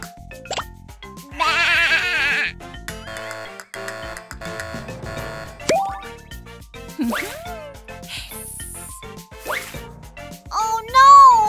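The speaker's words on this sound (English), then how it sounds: "This is the sound of a fluffy sheep!" Cartoon sheep bleat heard within a busy children's animation soundtrack, with music, squeaky effects and a child-like voice around it; the bleating is brief and mixed among other toy and animal sounds.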